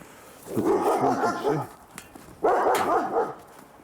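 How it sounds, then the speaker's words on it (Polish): A dog barks in two close, loud bursts of rapid yaps, with a short pause between them. "Znowu pies się wcieka."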